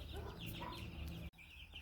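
Desi hen clucking softly at close range in a backyard flock, a few short bursts before a brief dropout, then quieter clucks continuing.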